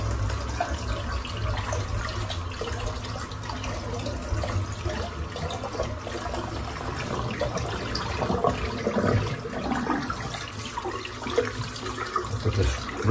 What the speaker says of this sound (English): Give this razor a good rinse out.